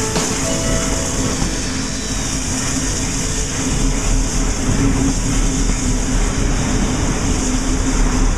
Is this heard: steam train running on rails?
yes